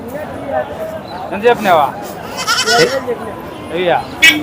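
Goats bleat at the Pileru goat and sheep market, with several loud, wavering calls close by in quick succession. People talk continuously underneath and between the cries.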